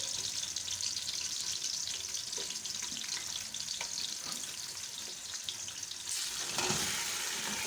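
Chicken pieces for desi murgh karahi frying in ghee, a dense continuous sizzle with occasional spatters and stirring scrapes, close and steady, swelling slightly near the end.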